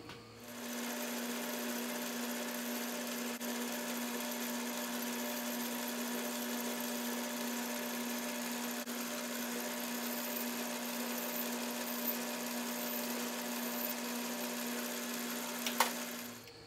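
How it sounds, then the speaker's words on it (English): Lathe facing and chamfering plastic stock, a steady motor whine holding one even tone at low level for the whole stretch, with a brief sharper tick near the end. "take these two pieces of material with a lathe. I got the plastic stock in there."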